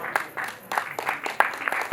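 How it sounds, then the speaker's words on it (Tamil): Applause from the audience at the Trans Achievers Award ceremony, with bursts of clapping rising and falling in uneven waves, fairly close and dense for a couple of seconds. "இந்த கைத்தட்டல் பத்தவே பத்தாது"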